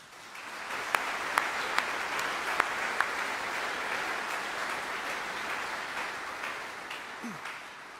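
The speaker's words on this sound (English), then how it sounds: "So let's give them a round of applause for that." Sustained applause from an audience at a 3d US Infantry Regiment "The Old Guard" change of command ceremony, a dense steady wash of clapping with a few sharper claps standing out, holding level for about eight seconds.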